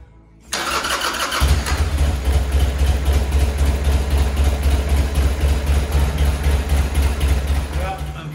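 A 1999 Buell Thunderbolt S3 motorcycle with a running problem cranks and fires up, settling into a loud, close, throbbing idle that continues steadily to the end.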